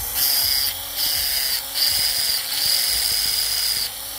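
An electric rotary fabric cutter with a built-in blade sharpener runs close by, giving a steady high-pitched motor whine that dips in short breaks about every second as the sharpener is pressed.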